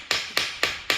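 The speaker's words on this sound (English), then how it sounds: "And I'll go around with the ballpoint hammer" A ball-peen hammer taps metal during a Ford Escort Mk2 engine build with a C20XE engine. Four sharp, evenly spaced close strikes fall within about a second.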